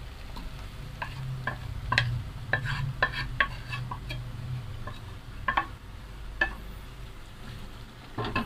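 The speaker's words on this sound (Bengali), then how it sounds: "একটু আমরা নেড়ে দিব।" Sizzling tempering of fried onions is stirred into Chittagong-style beef kala bhuna, with a constant low sizzle under repeated sharp scrapes and taps of a spoon against the pot, close and unaccompanied by talk.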